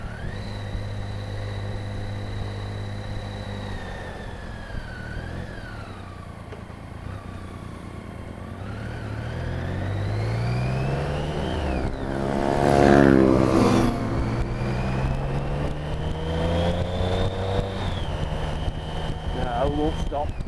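A BMW K75 motorcycle drones steadily on a ride near Matlock Bath. Its engine pitch rises and falls through gear changes and swells to a louder surge of acceleration midway, with wind noise throughout and occasional talk over it.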